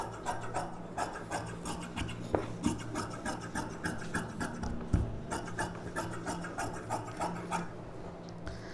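Scissors cut a puff sleeve from silk saree blouse fabric with repeated rhythmic rasping snips, close and fairly quiet, about one every half second.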